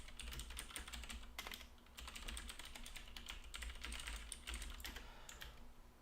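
Steady, dense clatter of typing on a computer keyboard for a chat message, quick keystrokes running continuously with one short pause, close and fairly quiet over a low hum, no talking.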